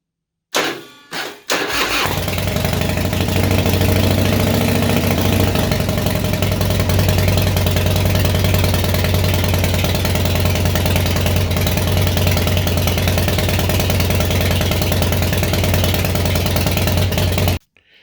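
A Harley-Davidson motorcycle engine, choke on, cranks briefly in a couple of quick bursts, then catches and settles into a loud, close, steady idle lasting about fifteen seconds before cutting off.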